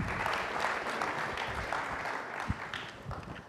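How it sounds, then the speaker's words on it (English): Audience applause for panelists at an innovation management panel discussion: a steady, dense clatter of clapping hands filling the room for several seconds, with no voices over it. "Please give them a round of applause."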